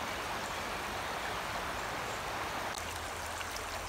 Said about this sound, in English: It's the West River.